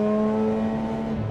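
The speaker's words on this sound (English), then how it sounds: "another thing you're gonna hear in the audio here is my exhaust hits on my cross members" A race car's exhaust hums and drones steadily under load from inside the cabin, with a sustained engine tone that shifts slightly near the end.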